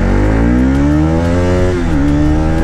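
A Bajaj NS200 motorcycle fitted with a modified chain sprocket revs hard in first gear, its engine note rising steadily, dipping briefly and climbing again, loud and close.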